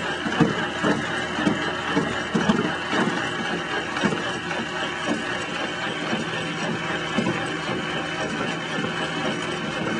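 A homemade inertial propulsion device runs at slow speed, around 100 to 120 RPM, a steady loud mechanical hum and whirring drone with a rhythmic knocking pulse, continuous for ten seconds.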